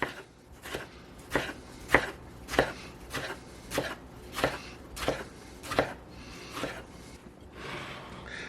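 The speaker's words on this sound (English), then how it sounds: "I'm going to cut it in half, and then I'm going to slice it." A knife cuts through a tomato on a board in a home kitchen, about a dozen crisp, evenly spaced slicing knocks in a steady rhythm, close and clear with no talking.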